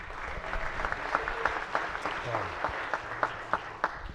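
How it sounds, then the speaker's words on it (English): Senators in a state senate chamber give a round of applause for a page, steady moderate clapping heard at some distance with a few sharper individual claps standing out. "If the body could join me in a round of applause for Abigail Bobro from Montgomery County."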